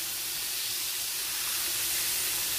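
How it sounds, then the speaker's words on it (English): Pork chops fry in a pan with a steady, loud broadband sizzle and hiss that stays constant throughout, with no voices over it. "These been frying for about 4 minutes. Now we're going to go ahead and flip these bad boys."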